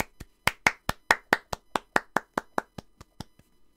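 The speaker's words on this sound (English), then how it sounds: "Everybody clap your hands." Hand claps from a multiplayer video game ring out as a fast, even run of about sixteen sharp, close, crisp claps that thin out slightly toward the end, with no talking.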